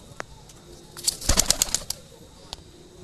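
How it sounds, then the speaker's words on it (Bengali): A pigeon bursts into flight, a quick flurry of wing flaps over about a second, with a faint click before and after. "এবার আমরা কবুতরটি ছেড়ে দিচ্ছি"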